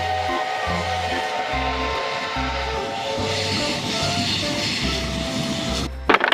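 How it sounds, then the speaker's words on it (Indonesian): A toy steam train runs steadily with a rhythmic chugging, clacking pulse that repeats evenly for several seconds. It ends with a brief louder clatter near the close. "Kita dapat kereta uap."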